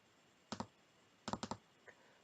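Computer mouse clicking while working in an Excel spreadsheet: a quick double click, then two double clicks close together, then a faint single tick, crisp and close in a quiet room.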